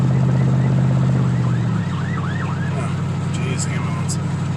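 An ambulance siren wails in a rising and falling pattern as it passes, loud and steady over a low rumble of traffic, with a brief voice nearby.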